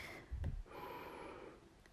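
A deep breath drawn in during a guided relaxation exercise, a single audible inhalation that rises and fades over about a second, close and fairly quiet.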